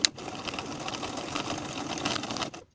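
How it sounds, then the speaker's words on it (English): A sewing machine stitches a welt onto a fully lined vest, a quick steady rattle of needle strokes over fabric that runs for a couple of seconds and stops abruptly. "Sew the welt in place right on top of the original basting stitches from one side to the other"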